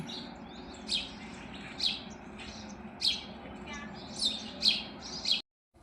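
Small birds, including sparrows, chirp in a home courtyard: about six sharp, high tweets spaced roughly a second apart over a quiet, low background hum, moderately close.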